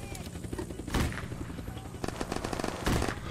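Musket gunfire in Unturned, a survival shooter: a couple of sharp shots crack out amid a busy mix of game noise and overlapping chatter.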